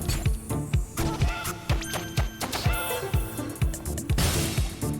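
An energetic electronic soundtrack from the game No Straight Roads with a punchy, driving bass and drum beat and bright synth lines, played loud without any voices.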